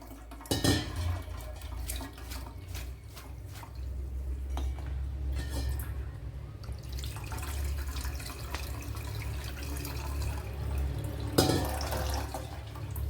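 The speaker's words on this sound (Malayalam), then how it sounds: "ഇതിലേക്ക് പച്ചവെള്ളം ചേർത്ത് കൊടുക്കണം, അല്ലെങ്കിൽ കട്ട പിടിക്കും" Cold water poured into a metal cooking pot while making ada pradhaman for a sadya, with close splashing, dripping and light clinks of the pot, steady throughout with no talk.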